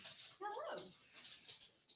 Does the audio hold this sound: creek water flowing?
no